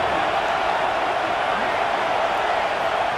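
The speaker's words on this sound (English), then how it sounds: "Listen to the crowd energy here in the early going." Steady, dense roar of a stadium crowd at a UTEP Miners college football game, a continuous wash of many voices that stays loud and even from start to finish with no single voice standing out.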